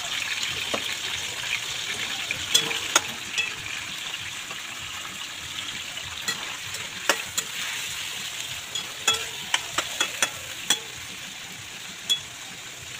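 Pork pieces brown in a pan with a continuous bright sizzle, close up, punctuated by scattered sharp pops and spatters throughout, with no one talking.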